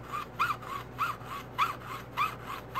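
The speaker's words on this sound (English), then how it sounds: "So you can hear the blade change sound when I got close to the edge there." A jeweler's saw blade cuts through a silver quarter near its edge, with rhythmic back-and-forth rasping strokes about every half second, close and fairly quiet over a low steady hum.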